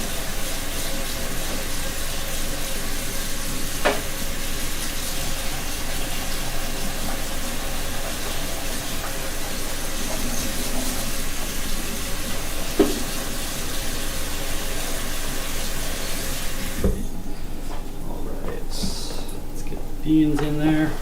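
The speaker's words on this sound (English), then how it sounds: "rinse the beans" Beans being rinsed under a running tap indoors, a steady broadband rush of flowing water throughout that cuts off near the end, with occasional knocks and a voice talking over it.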